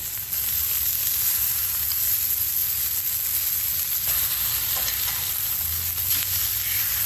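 Steak fat cap searing on a hot grate over an outdoor fire pit, a steady close sizzle and crackle that holds unbroken for several seconds with no voices.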